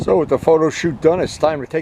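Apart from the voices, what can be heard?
No everyday noises stand out.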